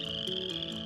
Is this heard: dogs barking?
no